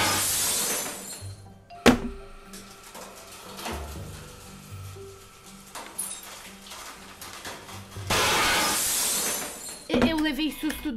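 A glass object crushed by a hydraulic press, with a sharp sudden crack, bursts of shattering and tinkling fragments, and a few thunks, loud and close, with people talking between the breaks.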